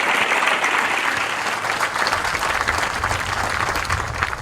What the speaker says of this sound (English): So if we can get a round of applause for the band